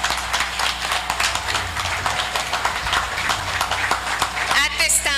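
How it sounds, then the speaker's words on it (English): Applause rings out at the official installation ceremony of Belize's Governor General, steady crowd clapping through about five seconds with voices murmuring underneath and a brief louder tonal sound near the end. "It is official. A round of applause."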